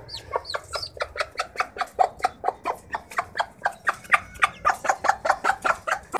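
A mother hen clucks near her newly hatched chick, a rapid, even series of short clucks repeating about four times a second, close and clear over a faint low background hum.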